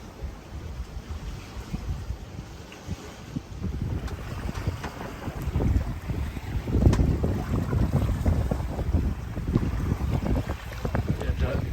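Wind gusts sweep across a sailboat moving at about four knots off the Greek coast near Kalamata, a steady rushing roar that swells and stays loud through the second half, with water and hull noise underneath.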